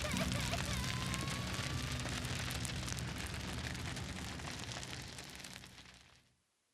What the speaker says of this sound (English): the rain pours on them unlike any other